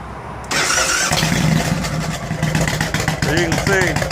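An engine on a project vehicle cranks over and catches, settling into a steady running rumble at close range, with a voice speaking briefly over it.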